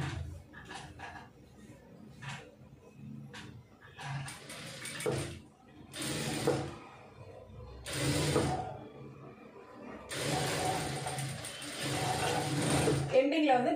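A sewing machine stitches a neck piece of a garment in a tailoring session, with close, whirring runs of stitching in several bursts that grow longer, separated by short pauses and mechanical clicks.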